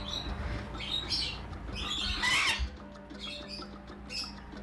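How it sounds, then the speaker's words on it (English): A medium sulphur-crested cockatoo gives harsh, raspy squawks and chirps at moderate distance, with one louder burst in the middle, over a steady background hum, with no speech. "So Floyd is a medium sulfur crested"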